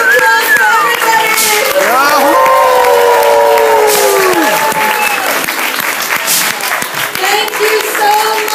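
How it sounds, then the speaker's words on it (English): Steady, loud applause with some cheering fills the room after a children's stage performance of The Hobbit, clapping sustained throughout with a few voices and tones rising above it. "And one big round of applause for everybody."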